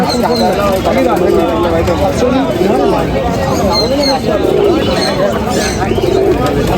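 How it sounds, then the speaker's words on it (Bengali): Fancy pigeons coo at a crowded village market in Birnagar, their soft rolling calls repeating beneath a loud, constant hubbub of people chatting nearby. "এখানেও কিন্তু অনেক অনেক সুন্দর সুন্দর ফেন্সি পায়রা রয়েছে"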